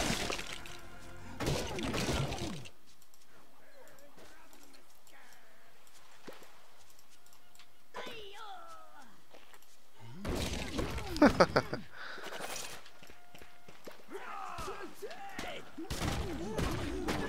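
Objects smashing apart in the LEGO Minifigures Online video game, several loud, sharp breaking bursts separated by quieter gaps of game sounds.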